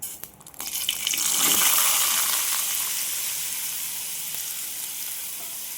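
Yam pieces drop into hot oil with mustard seeds and a loud hissing sizzle rises, then settles into a steady crackling fry heard up close.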